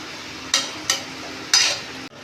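Goat intestines are stirred with ginger garlic paste in a hot pan, giving a steady sizzle broken by three brisk scraping strokes of the spoon, close and fairly loud.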